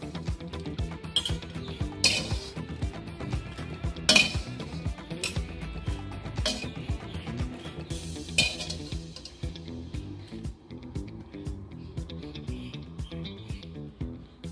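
Scorched chilies scooped out of a pan, with repeated metallic clinks and scrapes of a utensil against the pan, sharp and close at irregular intervals, tapering off toward the end.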